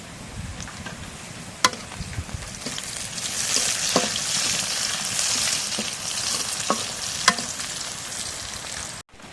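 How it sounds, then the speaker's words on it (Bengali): Bay leaves fry in hot oil in a pan with a continuous close sizzle and crackle. A few sharp pops and clicks break through, and the sound cuts off abruptly at the end. "এখন তেল দিয়ে দিচ্ছি আলহামদুলিল্লাহ এখন তেজপাতা দিয়ে দিচ্ছি"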